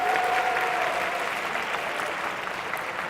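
A high school classroom audience of students gives a hearty round of applause during a lecture, even, continuous clapping that fades slightly toward the end.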